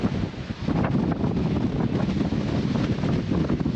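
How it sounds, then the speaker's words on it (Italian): Strong wind buffeting a microphone, a loud continuous roaring rumble with gusty fluctuations and no voices. "c'è talmente tanto vento che faccio fatica a tenerla ferma"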